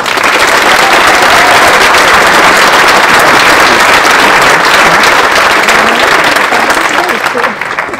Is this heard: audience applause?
yes